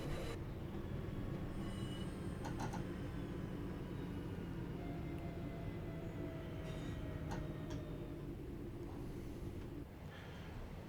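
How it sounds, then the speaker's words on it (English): A simulated train in Train Sim World 5 on the Glossop Line runs toward Manchester Piccadilly, giving a steady low rumble and wheel noise throughout, with a few faint squeals and ticks. "Right, back into Manchester."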